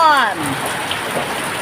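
Steady rain falls in the Philippines on May 1, a dense close hiss of drops hitting surfaces, with a brief voice at the very start.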